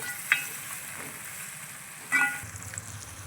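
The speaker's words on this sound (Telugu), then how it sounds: "ఆయిల్ అయితే ఫ్రై చేస్తున్నారు ఉల్లిపాయలు అయితే ఫ్రై అయిపోయాయి టమోటా వేస్తున్నారు" Onions and tomato fry in hot oil with a steady, close sizzling hiss, broken by two brief clinks of a utensil against the pan.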